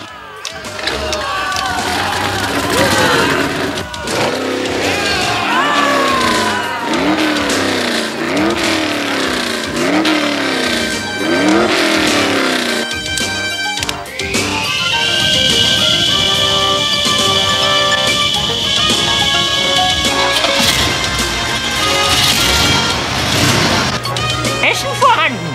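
Rally-prepared race cars fire up and rev hard, loud close engine roars with rising and falling pitch sweeps, then a sustained high whine as the cars pull away.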